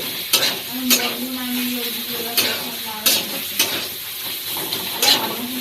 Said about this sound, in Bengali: এই দেখো রান্না হচ্ছে এখানে লাল শাক ভাজা